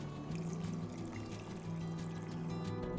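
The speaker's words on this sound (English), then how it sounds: "And now we're adding 3 cups of vegetable broth." Vegetable broth pours into a pot of chili, a faint, steady liquid stream lasting a few seconds at close range.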